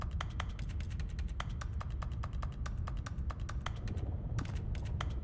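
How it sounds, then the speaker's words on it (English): Rapid, crisp keyboard clicks from The Stanley Parable play at a steady typing rhythm, close and fairly quiet over a low background hum, with a brief pause near the end before the tapping resumes. "when I click and there's nothing for me to interact with, it literally just makes like keyboard noise"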